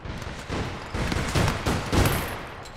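Gunfire in the online shooter APB Reloaded, several overlapping bursts and shots popping in uneven clusters across a few seconds, moderately loud and mid-distance, with no voices over it.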